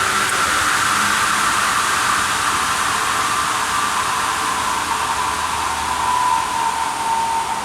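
A Pat Mooney PMI-20 precision upcut saw for aluminum profiles winds down after power-off of motor and hydraulics, a steady broadband whirring hiss with a faint tone slowly falling in pitch, loud and continuous, with no talking.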